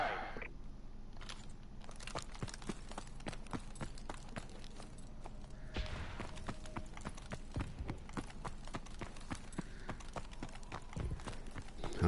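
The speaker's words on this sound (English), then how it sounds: "I don't think they made their footsteps loud enough in this game." In the video game Advanced Warfare, quiet footsteps tap in a quick, steady rhythm of crisp clicks throughout, fairly faint and with no talking.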